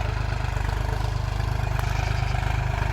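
A farm tractor idles in a village field with a close, steady, rhythmic low chugging that holds an even beat from start to finish.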